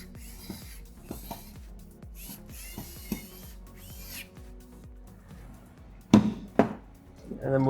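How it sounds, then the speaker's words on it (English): Bolts are tightened on the 40mm stage of an Offset belted camera box tube with a ratcheting clicking in short bursts, near and moderately loud, with a few louder metallic knocks near the end. "We'll take the bolts from the bag and tighten them up like so."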